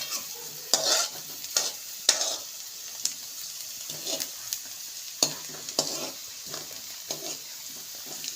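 Cumin seeds and chopped onion fry in a hot pan, with a low sizzle under sharp, irregular scraping strokes of a spoon stirring them, fairly close and moderately loud.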